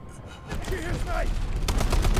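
ASh-12 rifle firing in the video game Delta Force, a rapid burst of heavy shots building toward the end, with a person speaking over the start.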